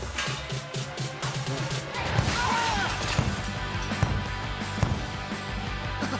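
A heavy weight is dropped onto glass in a knee-force demonstration, giving a crashing smash and scattered clatter, then several sharp impacts and rattling over a busy, noisy background.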